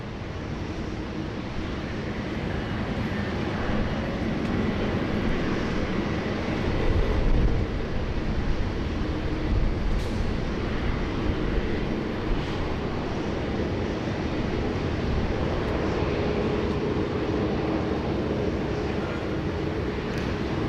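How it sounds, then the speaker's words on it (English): A Qantas A330 airliner departs Sydney Airport in heavy rain, its engines producing a steady, broad jet roar heard from a distance for the full stretch, mixed with rain and wind noise and no talking. "Our first two departures this morning on your left is Qantas 7601, the Qantas 330 is heading over to Auckland"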